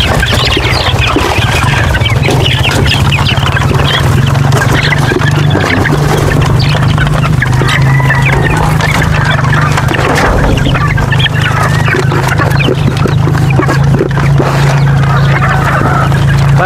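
Breeder roosters and hens cluck and call together in a loud, dense flock, a constant chorus with a steady low hum underneath.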